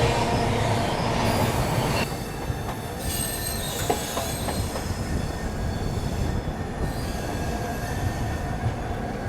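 The Ahmedabad-Mumbai double decker express runs loud and close, a continuous rumble of the rail cars with wheel squeal and faint clicking over the track joints.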